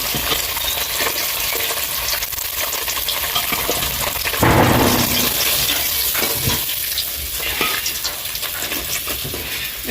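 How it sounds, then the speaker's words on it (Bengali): Silver fish frying in oil give a close, steady crackling sizzle, with bursts of stirring or scraping in a pan swelling midway through. "বাকিগুলো ভেজে নেবো এরকম ভাবে।"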